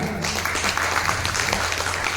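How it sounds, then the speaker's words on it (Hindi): Audience at the Heroize Award Function cheers an award winner with loud, dense applause, a continuous wash of many hands clapping close by for a couple of seconds. "नितिन जी के लिए जोरदार तालियां"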